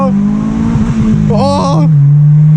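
A 2004 Honda Civic Si launches hard in first gear using launch control, its engine droning loudly and steadily before a rising rev sweep, then settling back, heard from inside the car at close range.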